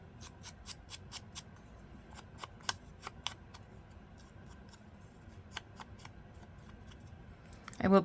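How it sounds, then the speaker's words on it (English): Quick, crisp snips of scissors trimming flower stems, a rapid run of cuts early on followed by scattered single snips, close and fairly quiet over faint room noise. "I will be trimming some of the stem off."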